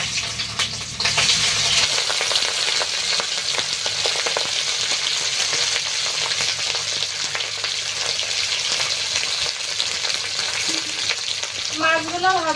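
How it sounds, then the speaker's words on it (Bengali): Fish fries in a pan with a loud, continuous, crackling sizzle close by, with spatula stirring scrapes mixed in throughout. "তো মাছগুলো একটু ভেজে নেবো"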